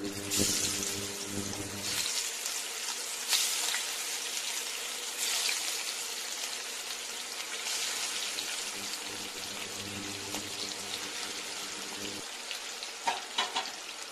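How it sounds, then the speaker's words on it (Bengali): Hilsa fish pieces frying in mustard oil in a hot wok, a steady close sizzle running throughout with occasional clinks and a brief watery splash near the end. "তেলটা গরম হয়েছে, মাছগুলো হালকা করে ভেজে নেব।"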